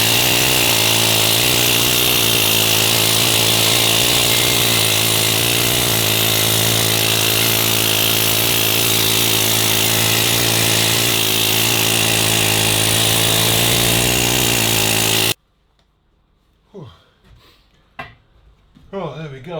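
A loud power tool grinds continuously as it strips flaky paint from welded metal, then cuts out abruptly, leaving a few faint clanks and handling noises.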